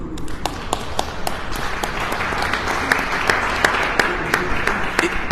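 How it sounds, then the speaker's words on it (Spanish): Steady applause from the audience at a Latin American poetry panel discussion, many hands clapping evenly with sharper individual claps standing out throughout, no speech over it. "le vamos a brindar un fuerte aplauso"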